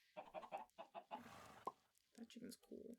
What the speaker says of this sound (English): That chicken's cool.